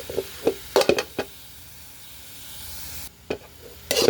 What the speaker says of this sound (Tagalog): haluin lang natin ng haluin hanggang sa mag-iba na ang kulay